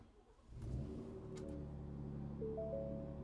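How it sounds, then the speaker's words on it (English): A 2025 Ford F-150 Raptor with a valved exhaust cranks and fires up, a brief starter whir catching into a loud rumbling idle that settles and holds steady, with a slight rise near the end. "Let's go ahead and fire it up."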